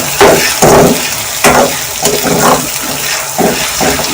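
Spices fry in a pan for an aloo matar curry, with a close sizzle and irregular stirring and scraping strokes every half second or so.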